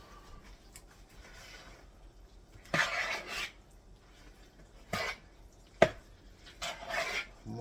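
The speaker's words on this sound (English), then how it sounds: "So now you're going to mix this together really good." A spoon works through a thick cheesy potato mixture with sour cream and soup in a bowl, soft squelching scrapes broken by a few sharp clinks against the side, quiet and close.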